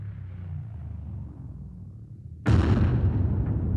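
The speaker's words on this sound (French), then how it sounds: "La porte explose" A prison door is blown open by a block of plastic explosive: after a low rumbling hush comes a sudden loud blast, followed by a heavy, sustained roar and rumble that fades only slightly.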